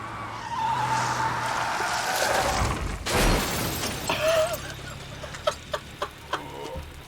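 A car in a video game cutscene skids out of control and crashes into a tree, with a broad rushing skid, a sharp impact burst near the middle, then scattered debris clatters and clucking chicken-like squawks.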